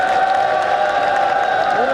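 Audience at a ministerial speaking event in Yachuli applauds to welcome guests, a sustained dense clapping and cheering wash heard alone at close, steady loudness.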